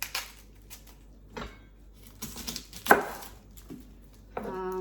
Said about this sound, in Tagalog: So, ito yung sibuyas. Chop lang natin itong mga to.